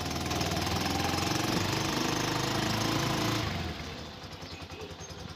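A TMX 125 motorcycle engine chugs loud and rough at raised revs, then settles about midway into a quieter, pulsing idle as the clutch is worked; it is close and has no talk over it.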